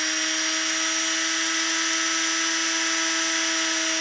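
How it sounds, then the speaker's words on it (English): A rotary tool fitted with a ball burr bit grinds at a polymer clay ball-jointed doll head around the eye opening, a steady high-pitched whine running loud and unbroken throughout with no talking. "I'm taking that burr bit, the ball bit, and I'm just going around those edges just a little bit, very lightly, inside of the eye"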